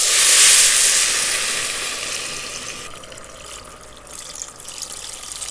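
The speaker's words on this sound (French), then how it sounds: "je vais rajouter mon eau." Water pours into a pot of lentils on the stove, a loud rushing splash at first that settles into a softer steady flow, with sizzling from the hot pot underneath.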